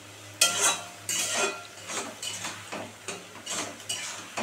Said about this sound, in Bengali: দেখো এবার এটাকে ভালো করে কষিয়ে নিই